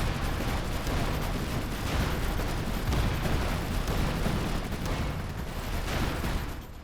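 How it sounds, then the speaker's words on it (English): Heavy, continuous gunfire and explosions rumble through a night raid battle in the strategy game Iron Harvest, dense overlapping shots and booms filling the whole stretch at steady loudness. "We're taking fire!"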